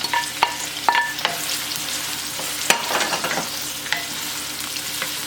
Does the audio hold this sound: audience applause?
no